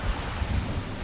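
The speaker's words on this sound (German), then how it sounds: "Wir haben kräftigen Wind, so zwischen 15 und 18 Knoten" Strong 15 to 18 knot wind blows across a sailboat under way, a steady close rushing roar with low buffeting gusts and a wash of water, no voices heard.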